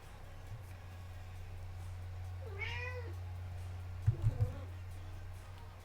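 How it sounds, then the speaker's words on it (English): A pet cat meows once, a rising-falling call in a quiet room, followed shortly by a few soft clicks or thumps over a low steady hum. "I'm like so distracted by my cat right now"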